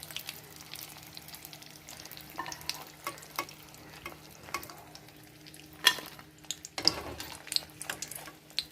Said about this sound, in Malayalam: നല്ലതുപോലെ കാഞ്ഞിട്ട് മീഡിയം ഫ്ലെയിമിൽ വച്ചിട്ട് വേണം നമുക്ക് വറുത്ത് കോരി എടുക്കാനായിട്ട്